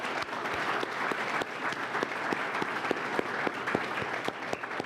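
Audience applause for honorees at a closing awards ceremony, sustained crowd clapping with scattered sharper individual claps standing out over a steady, moderately loud wash.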